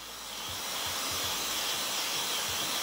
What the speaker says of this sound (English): So you want to make sure you dry that part too before you move it down to stretch it.